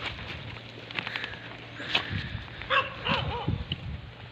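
Dogs bark outdoors from a nearby house on a cold, windy morning. A few short, fairly faint barks come in a quick cluster toward the end, set against soft background noise and a low steady hum.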